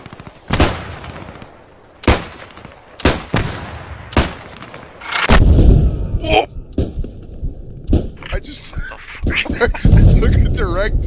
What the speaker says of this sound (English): Hit from a tank.